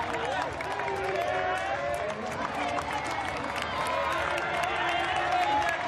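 Crowd cheering along the course of a triathlon race in Toulouse, a steady wash of distant voices and clapping running continuously under a commentator's talk.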